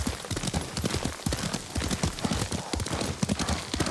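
Steady horse hooves clip-clopping at a riding pace in the samurai game Ghost of Tsushima, rhythmic and close, continuous throughout with faint ambient sound beneath.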